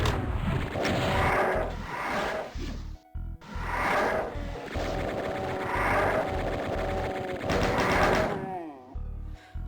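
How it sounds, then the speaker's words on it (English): Revenant monsters in Doom II growl and shriek amid a dense, loud barrage of weapon fire, thuds and mechanical game effects, with repeated swelling bursts and brief gaps throughout. "Revenants are always so loud when doing commentary"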